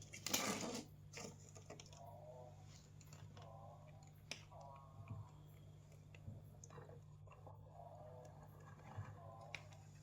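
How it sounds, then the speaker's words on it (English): Hand-stitching a leather cat purse from a kit, needle and thread pulled through punched holes: faint, sparse clicks and soft rasping pulls over a steady low hum, quiet and close. "Pull the thread through. Pass forward with the back needle."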